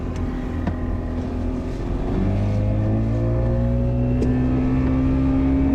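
A 1980s bass boat with some modern upgrades accelerates hard on the water. The outboard roar is steady and loud, and its tone climbs and shifts as the boat picks up speed.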